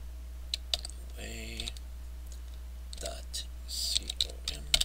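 Someone types a web address on a computer keyboard, a scatter of light, close key clicks in short irregular bursts, with a voice speaking briefly and softly among them.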